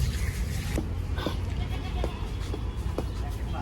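Goats being washed with shampoo and water at a livestock market, with several short bleats standing out over a dense, busy background murmur.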